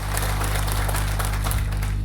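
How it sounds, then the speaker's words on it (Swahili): At a government launch of an aluminium and glass vocational curriculum, an audience gives a steady burst of applause, partly masked by a loud electrical hum. "Tumpigeni makofi."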